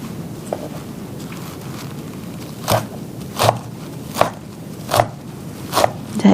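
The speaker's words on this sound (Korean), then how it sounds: "먼저 또 썰기 좋게 이렇게 잘게 썰을게요." A knife chops dandelion root finely, giving about five evenly spaced, crisp strikes in the second half over a steady low background hiss.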